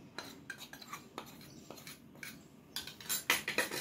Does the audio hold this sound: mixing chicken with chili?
yes